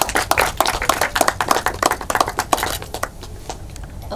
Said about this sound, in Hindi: जोरदार ताली फॉर नैना